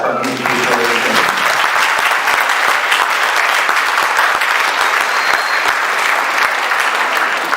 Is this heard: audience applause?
yes